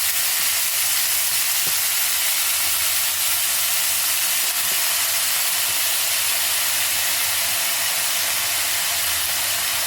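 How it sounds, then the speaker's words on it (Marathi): Finely chopped fenugreek leaves sauté in a spoonful of ghee, giving a steady, even sizzle and hiss close by, with faint stirring clicks and no talk. "मेथी आपल्याला यामध्ये छान परतून घ्यायची आहे अगदी ती चांगली मऊ शिजेपर्यंत"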